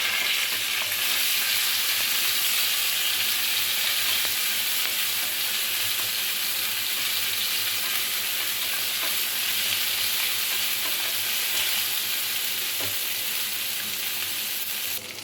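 Whole cumin seeds and ground cumin paste fry in hot oil for a light Bengali fish curry with potatoes and beans, giving a loud, constant close sizzle and hiss that runs unbroken with occasional faint stirring ticks.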